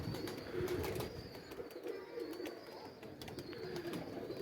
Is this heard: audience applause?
no